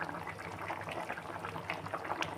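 Potato gravy simmers under a lid in a cooking pot, a faint, continuous bubbling and gurgling with no talk.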